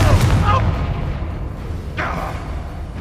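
Confringo spell blasts in the Hogwarts Legacy video game, heavy booming explosions with a rumbling low-end tail and sharp whooshing bursts, loud and close, with a voice calling out over them.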